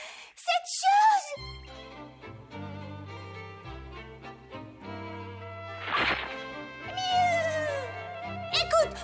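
A voice mimics a cat, meowing twice in a French-dubbed anime scene, the calls drawn out and sitting over background music.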